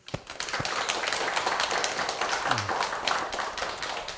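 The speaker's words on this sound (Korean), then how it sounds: "여러분의 생일을 축하하는 큰 박수를 다시 한번 칩시다." Temple congregation at a Buddha's Birthday dharma service clapping in celebration, a dense burst of many hands with sharp individual claps standing out, sustained for several seconds at fairly close range.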